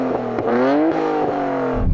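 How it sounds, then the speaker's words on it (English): A Nissan Skyline R34 GT-R engine revs up close by, the pitch sweeping quickly upward and then settling back, loud with no talk. "Go on, rev up the R34."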